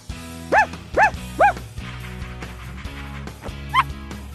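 Cartoonish puppy yips and barks from a Strawberry Shortcake puppy doctor game app for kids, three quick high yelps then a fourth after a pause, over soft background music.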